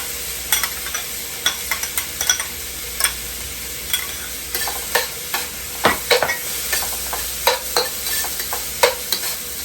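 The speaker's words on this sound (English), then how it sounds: "Let's add our peas and carrots." Peas and carrots hitting hot fried rice made with leftover turkey and ham, a soft sizzle under sharp, rhythmic spatula scrapes and clacks against the pan, close and alone.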